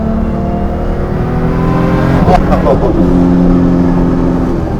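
Toyota Supra MK4 tuned to 1400 HP, its turbocharged engine heard from inside the car revving with rising and falling harmonic tones and a brief burst of turbo noise midway, loud and continuous.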